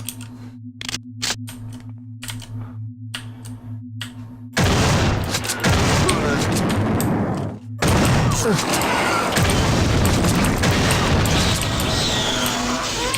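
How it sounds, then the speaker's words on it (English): Shotgun blasts in the sci-fi horror game System Shock 2, two heavy booming reports that stand alone after a stretch of pulsing, thudding game ambience, each followed by a loud, ringing wash of noise. "Let's use the shotgun for this."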